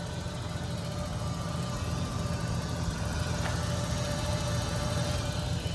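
A Ford Bronco II engine idles steadily, a low, even mechanical hum heard from a moderate distance with no change in pace.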